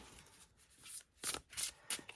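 Chunky cardstock oracle cards from a Crystal Grid deck being shuffled by hand, heard close and soft as a few quick riffling bursts of papery flutter, with no voices.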